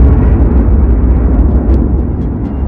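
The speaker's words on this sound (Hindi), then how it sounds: "बीच के इस भयंकर दबाव के कारण एक विशाल विस्फोट हुआ" A massive, deep rumbling explosion sound effect roars continuously with heavy low-end energy, loud and sustained without a clear sharp onset.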